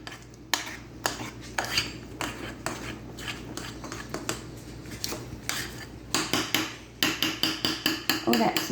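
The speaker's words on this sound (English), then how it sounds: "we're going to stir our chocolate chips in" Semi-sweet and milk chocolate chips being stirred into banana muffin batter in a bowl, a series of sharp utensil clinks and scrapes against the dish, irregular and close, growing denser toward the end, with no talking.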